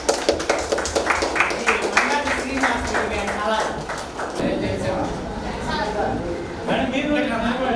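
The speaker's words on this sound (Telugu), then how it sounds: "క్లాప్స్ కొట్టాలి." Audience at a school or community event in Ongole clapping in a quick rhythmic burst, then fading into scattered claps under murmuring voices and chatter nearby.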